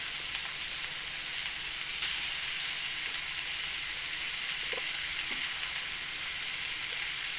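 Squash dropped into a sizzling pan with bagoong while cooking pinakbet, a steady hiss of frying with faint stirring clicks throughout, fairly quiet and close.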